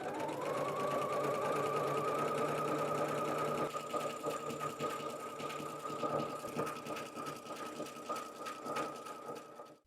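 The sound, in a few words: sewing machine seaming edge of wool sweater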